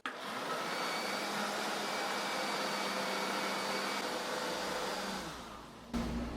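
A blender whirring steadily as it beats sugar and other ingredients for a cornmeal cake batter, a continuous loud motor drone that winds down near the end before a brief thump.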